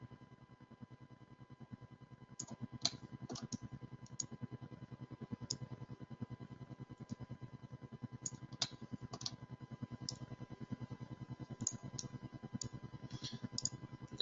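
Computer mouse clicking while drawing a spline line in 3Shape Implant Studio dental software: scattered single sharp clicks over a steady low hum, fairly close, with no talking.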